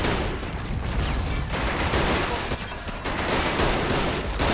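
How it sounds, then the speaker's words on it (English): Battlefield gunfire in the Men of War: Assault Squad game, a German assault on a Soviet tank factory in 1941, with dense bursts of shots and booms in a loud, sustained fusillade over rumbling background noise. "Damn it, I thought our boys cleared out that machine gun."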